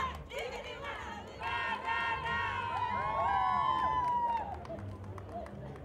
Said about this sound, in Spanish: para quien pido fuertes aplausos arriba de este escenario